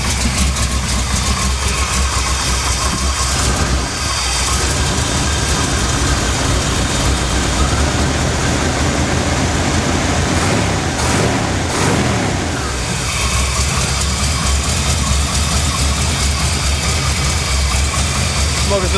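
A 1982 K30 truck engine running steadily, a loud continuous idle with a broad rumbling drone that holds without a break throughout.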